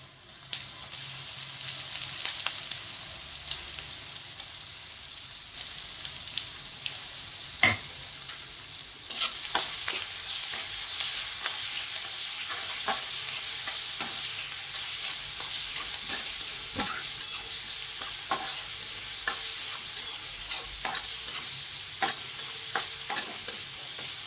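A ground paste of green chili, garlic, cumin and salt is sautéed in a pan for methi bhaji, giving a steady close sizzle broken by frequent scraping stirs of the spoon.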